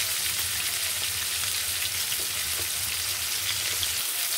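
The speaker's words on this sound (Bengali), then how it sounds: "এখন মাছটা আমি একদম উল্টিয়ে দিব, কারণ বেশি ভাজা হয়ে গেছে।" Oily fish full of roe fry in a pan, giving a loud, dense, unbroken hiss and crackle of hot oil close up, with no voices.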